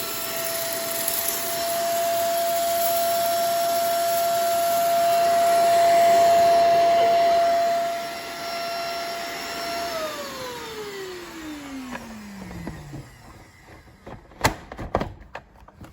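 Close and loud, a Fakir PR7020 steam cleaner blows with a steady whine and airy hiss, then the motor winds down in a falling tone. A few sharp clicks and knocks follow as it stops.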